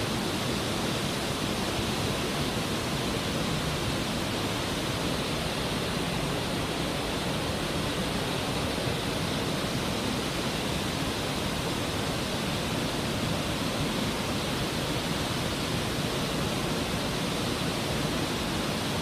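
A waterfall pours down onto a tour boat passing beneath it, making a steady, dense roar of crashing water that stays loud and unbroken throughout, with no voices.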